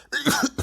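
A single sharp cough, close and loud, breaking into two or three quick rough bursts.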